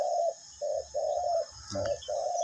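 A decoy bird gives repeated soft, mellow cooing calls in short bursts with brief gaps, fairly close, over quiet background noise.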